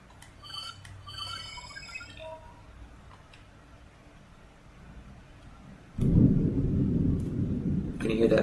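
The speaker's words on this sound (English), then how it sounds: "Can you hear that thunder coming through?" Deep rolling thunder in the ocean game Beyond Blue, rumbling low after some light ticking and chirps, then swelling into a louder, sustained roll near the end.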